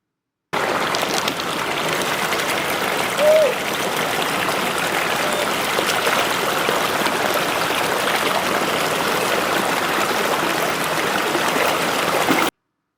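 The Erzen River, running white with chalk below limestone cliffs near Pellumbas in Albania, flows steadily with a continuous close rushing and trickling wash, no voices.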